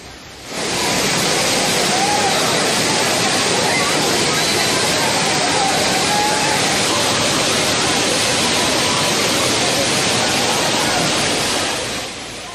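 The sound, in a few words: Thirparappu waterfall roaring, tourists bathing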